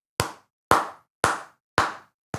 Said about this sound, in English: I got to clap, everyone.